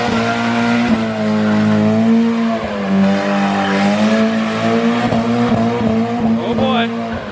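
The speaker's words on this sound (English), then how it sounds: "if you want to do a donut" A Mazda Miata spins a donut, its engine droning steadily at high revs while the tires squeal continuously up close, and voices speak over the noise.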